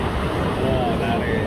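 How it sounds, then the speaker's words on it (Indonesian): Ocean surf and wind roar steadily at Sadranan beach, a continuous loud wash of waves with wind buffeting the microphone, heard close by during a canoe outing. "Awas kena ombak, kedorong lagi."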